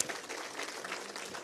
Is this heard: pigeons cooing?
no